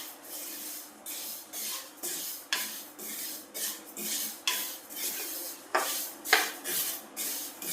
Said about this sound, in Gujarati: આપણે ધીમા ગેસે તલને શેકી લેશું